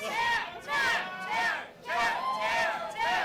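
A wrestling arena crowd roars in repeated loud surges of massed yelling and chanting, swelling and dipping in waves that last about a second each.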